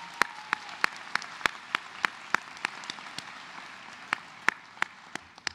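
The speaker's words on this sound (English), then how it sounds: "So everyone give her a round of applause." Applause from the audience at a medical school commencement ceremony: sharp, separate claps in a fairly steady rhythm over a soft hiss of the crowd in a large space.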